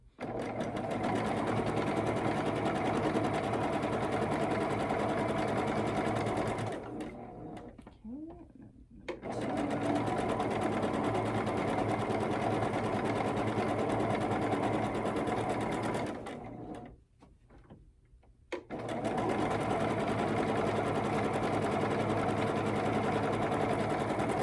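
A sewing machine with a quarter-inch foot stitches a quilt block in long, steady runs of rapid, even whirring, close and loud, stopping twice for short pauses with faint handling sounds before starting again.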